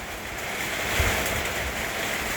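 Steady wind-driven rain with large drops hisses without a break, a broad rushing wash with gusts swelling and fading, close to the listener, drops falling into water.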